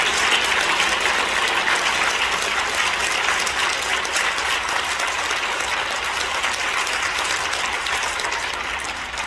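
Congregation applause at a Korean church thanksgiving service marking the inauguration of a church council president: a sustained wash of dense clapping from a large crowd, loud and steady throughout and tapering slightly at the end.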